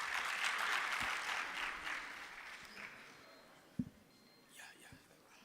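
Audience at a university postgraduate research day applauds a presenter, a soft, moderately distant round of clapping that fades out over a few seconds, followed by a few isolated thumps and faint murmuring.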